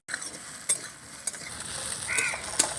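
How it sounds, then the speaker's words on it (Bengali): Okra frying and being stirred in a pan, giving a steady close sizzle with scraping stirs and a few sharp clinks of the utensil against the pan. "আমি দু থেকে তিন মিনিট মতন নাড়াচাড়া করে নিয়েছি"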